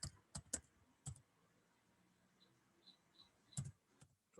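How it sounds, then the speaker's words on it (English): Sparse keystrokes on a computer keyboard while typing into a word processor: a quick cluster of sharp clicks, a long pause with faint soft taps, then a few more crisp presses near the end, close and dry. "So I am typing here something like this"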